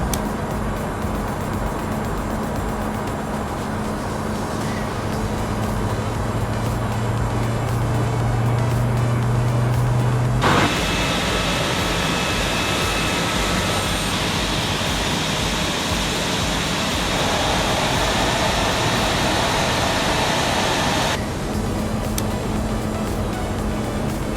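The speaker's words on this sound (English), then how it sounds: "As you can see, I'm starting the left-hand engine first." Embraer ERJ175 jet engines spooling up during start in the Prepar3D flight simulator, a continuous rising roar and whine that shifts in tone partway through and holds steady with no talk.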